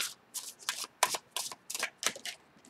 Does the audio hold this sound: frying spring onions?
no